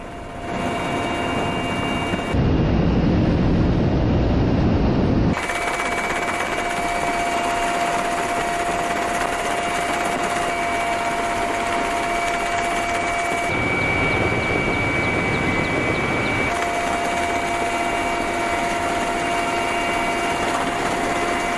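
A loud, continuous Russian military helicopter rotor and engine drone fills the whole stretch, with steady whining tones and shifts in intensity, no voices.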